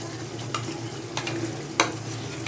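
Capsicum and chopped onion go into frying potatoes, giving a steady close sizzle of oil with a few sharp clinks and scrapes of stirring in a pan.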